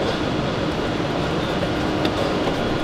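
A train at a station gives off a steady, even rumble throughout, heard up close with no talk over it.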